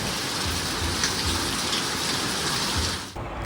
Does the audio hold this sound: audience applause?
no